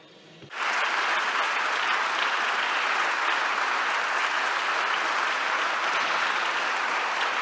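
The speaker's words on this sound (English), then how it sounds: "a big applause is being made for you" An audience breaks into applause for guests at a session, the clapping starting suddenly and holding steady and loud to the end.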